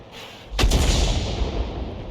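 A tank destroyer, the ARL V-39, fires its main gun in a video game: one sudden loud boom cuts in after a quiet moment and leaves a long, heavy rumbling decay.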